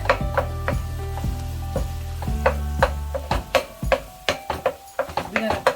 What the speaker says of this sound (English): we want to start by breaking up the turkey